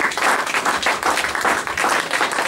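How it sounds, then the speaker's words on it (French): A church congregation applauds and cheers for the Lord during a sermon, loud rhythmic group clapping that fills the room without a break. "Est-ce qu'on va acclamer pour notre Seigneur?"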